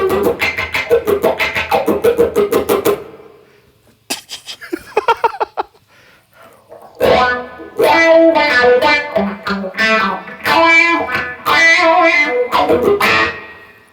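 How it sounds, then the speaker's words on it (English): An electric guitar plays through a Blackstar HT20 MKII amp with a wah pedal. Loud phrases start, break off into a sparse quiet passage, then return as a sustained, sweeping, vowel-like line with bright harmonics. "Here's the sound with the wah pedal."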